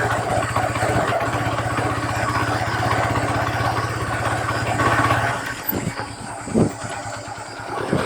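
A motorcycle engine idles steadily with a low, even throb for about five seconds, then cuts out, leaving scattered clatter and rustling.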